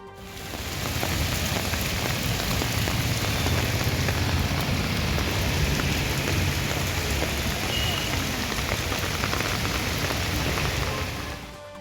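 Heavy rain falls steadily in Udhagamandalam (Ooty) in the Nilgiris, a dense, continuous downpour with no voices, holding at constant loudness for about twelve seconds.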